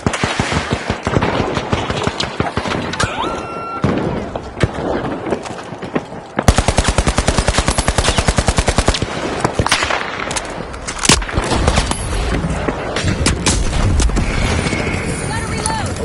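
Rapid automatic gunfire from a guardian turret in a video game, loud sustained bursts of fast repeating shots with a steady machine-gun rhythm through most of the stretch, with game voices speaking over it.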